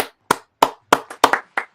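A few people clap on a hockey talk podcast, six or seven separate sharp claps in an uneven rhythm, close and loud, with no talk.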